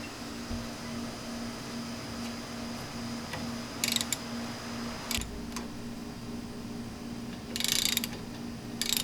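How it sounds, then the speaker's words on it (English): A ratchet with a 1/2 inch socket working on the front brake caliper bolts of a 2002-2005 Dodge Ram 1500, with short bursts of metallic clicking at intervals over a steady low hum, no talking. "attach it to our ratchet, and the bolts are located one on top, another one on the bottom, and we're going to loosen them to take off the caliper"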